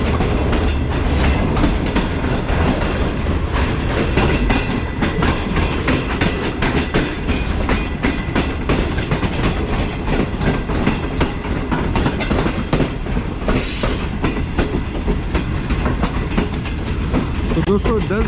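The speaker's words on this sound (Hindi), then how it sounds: "ट्रेन का जो बाहर का नॉइज़ है वो बिल्कुल भी डिस्टर्ब नहीं कर रहा" The Shalimar Express runs on the rails between Karachi and Lahore, a loud continuous rumble of wheels and carriage noise with steady clattering throughout.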